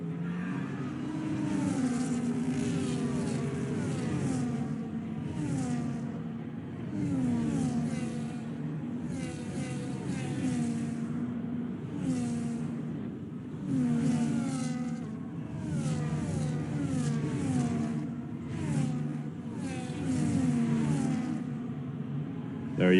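High-pitched Formula 1 engines whine and rev through gear changes as cars race at Silverstone in a video game, several cars overlapping in a steady, loud drone with repeated rising and falling pitch sweeps and no talk.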